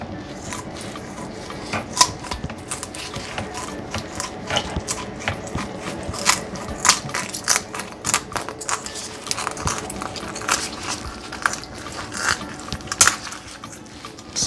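A sharp knife cuts through a whole raw chicken and its bone for a jerk roast, giving a long run of irregular crunching snaps and clicks against a cutting board, close and fairly quiet, with no talk.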